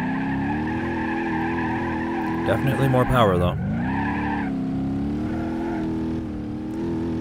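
Simulated 8-liter V10 in a BeamNG driving game pulls hard, a steady droning engine tone rising in pitch with a brief tire squeal and skid midway, while someone talks over it.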